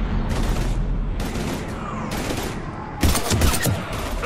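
Rapid gunfire in Mass Effect 3 combat, with repeated bursts of shots that grow louder and denser near the end, set against a rumbling battle backdrop.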